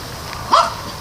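A single dog at a rescue shelter lets out one short, fairly loud bark in the middle of a quiet stretch.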